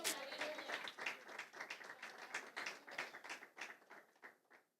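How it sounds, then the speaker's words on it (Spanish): A church audience claps in rapid, uneven applause that keeps going steadily, then thins out and fades near the end. "Vamos a dar un aplauso a Cristo en esta hora."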